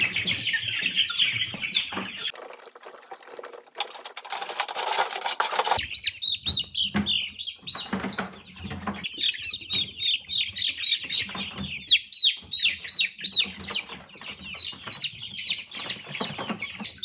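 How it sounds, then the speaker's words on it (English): Young chicks in a basement chirp constantly in high, rapid peeps, with a stretch of loud rustling and wing flapping as they are handled, then a dense, close chorus of cheeping that continues to the end. "You wanna get the chicks out of your basement?"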